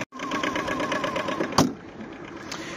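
An Aixam GTO microcar's diesel engine idles with the bonnet shut, a soft, rhythmic ticking chug heard up close and fairly quiet, broken by a single sharp knock partway through.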